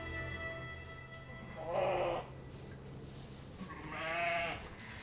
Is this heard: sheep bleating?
yes